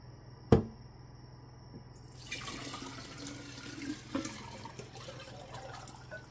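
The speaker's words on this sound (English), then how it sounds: "we're gonna pour it back in there now that we strained it out" Strained purple basil tea poured back into a jar: a sharp knock, then a steady close trickle of liquid with small splashes and clinks.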